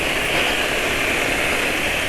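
A Honda PCX 160 scooter with a faulty water pump seal runs steadily nearby, a loud, even whirring drone with a bright mechanical whine and no speech.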